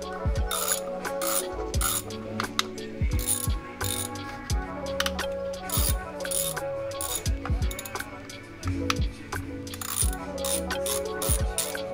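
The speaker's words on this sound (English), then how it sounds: "is just a Harbor Freight 3-jaw puller" A Harbor Freight 3-jaw puller working on a pulley of a Toyota 4.7L 2UZ-FE V8 during a timing belt and water pump job, giving rapid metallic ratcheting clicks and grinding mechanical rattles, steady and close throughout.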